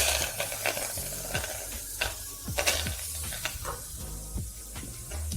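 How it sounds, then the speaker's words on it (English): Strawberries going into a saucepan with stirring and light sizzling, a string of close soft clatters and scrapes against the pan over a steady hiss, with no talking. "I place the strawberries into a saucepan"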